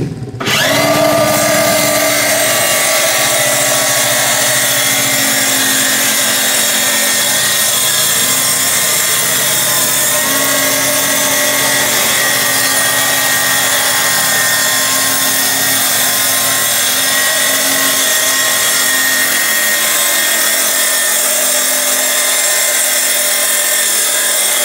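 A track saw, a circular saw running along a guide rail, rips through a full sheet of plywood held down by two clamps, giving a loud, steady, continuous whine from start to finish with no talking.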